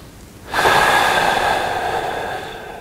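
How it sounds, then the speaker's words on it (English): A single deep belly breath during a mountain biking mobility stretch, a close, loud, airy exhale that begins abruptly and slowly fades over about two seconds. "So right here, I'm gonna start to use my breathing."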